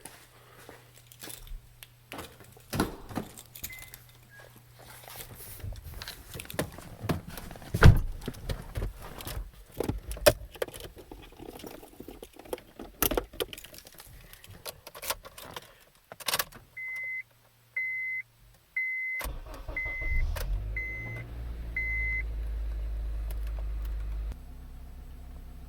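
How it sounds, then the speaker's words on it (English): A 4-cylinder Honda Accord with a new battery, cold after a week in an unheated garage at -2 degrees: keys rattle, a few chimes beep, then the engine catches and settles into a steady low idle close by. "Right now it's been sitting for a week and it just started like nothing."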